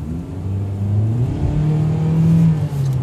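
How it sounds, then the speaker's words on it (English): A 2014 Kia Soul box car accelerates slowly, its mid-pitched engine drone rising steadily and smoothly, heard from inside the cabin with no talking. "You feel a delay from the time you smash on the gas till the vehicle picks up speed."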